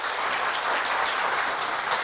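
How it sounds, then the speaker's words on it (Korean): Dense audience applause rings out at a Korea University staff retirement ceremony as a certificate of appreciation is presented, steady and close throughout. "큰 박수 부탁드리겠습니다"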